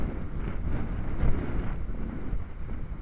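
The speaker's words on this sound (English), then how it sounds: "If you hear a lot of wind coming in the speaker" Strong gusty wind buffets the microphone outdoors in a steady low roar, swelling and easing in uneven surges, loud and close, with no talking.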